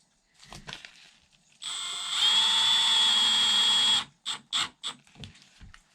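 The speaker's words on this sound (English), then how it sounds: "the final screw, a little tiny pilot hole to get through the ACM, stainless steel screw" Power drill boring a tiny pilot hole and driving a stainless steel screw into ACM panel on a teardrop camper build, a steady close whine lasting about two seconds, followed by several short clicking bursts.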